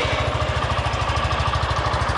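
Suzuki Gixxer SF 250 motorcycle engine running steadily at idle, close up, with a fast, even low thump throughout and no talk.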